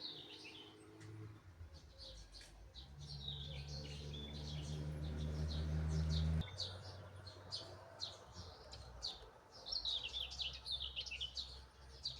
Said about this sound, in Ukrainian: Послухаємо пісні Солов'я.